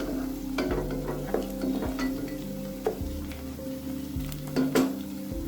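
Green chillies and chopped ingredients frying in oil and ghee in a pan for mutton pepper fry, a steady close sizzle with repeated stirring scrapes and occasional spoon clinks against the pan.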